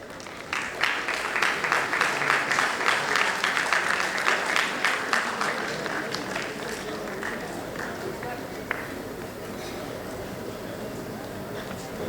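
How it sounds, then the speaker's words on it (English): Roaring applause from a convocation audience at R G Kar, dense clapping filling the hall loudly for several seconds before thinning slightly toward the end, with no voices over it. "if at all a noise is to be made, then it should only be the sound of roaring applause"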